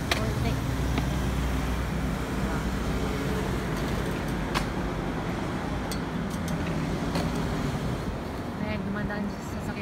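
Car traffic crosses the Sta. Mesa-Pandacan bridge, a steady roadway rumble with occasional louder passing vehicles, and a voice talks over it.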